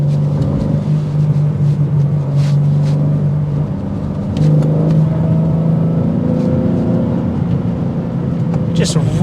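A 2024 BMW M3 CS engine pulls hard through corners, a loud droning growl that rises, briefly dips, then climbs again as the car accelerates, with cabin rumble throughout.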